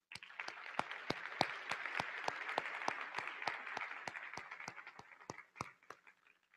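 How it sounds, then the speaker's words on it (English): A conference audience at the Empower 2015 general session applauds the Run Smarter Award winners, a quiet, steady wash of clapping with a few crisp claps standing out, fading away near the end. "Please join me in giving all of our winners another round of applause."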